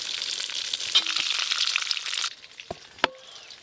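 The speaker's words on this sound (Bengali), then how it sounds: "এদিকে বেগুনগুলোও খুব ভালো করে ভাজা হয়ে গেল" Eggplant slices sizzle and crackle in hot oil in a pan, a busy frying hiss that drops away midway, followed by a few sharp utensil clicks.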